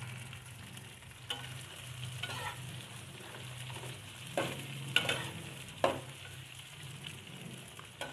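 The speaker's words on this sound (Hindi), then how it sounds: "ये 3 पाव हमने भिंडी जो उसको हल्का सा हम फ्राई करेंगे।" Okra frying in hot oil over a medium flame, a low steady sizzle with a few sharper stirring clatters breaking through at a moderate, fairly quiet level, no voices.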